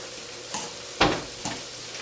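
Sausage and roasted vegetables being stirred on a foil-lined tray, giving three short scraping, rustling sweeps about half a second apart, the middle one loudest, with no talking.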